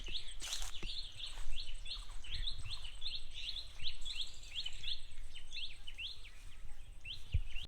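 Baya weaver birds chirp in a rapid, repeating series of high calls at moderate distance in a park, with a soft outdoor background and a few brief knocks.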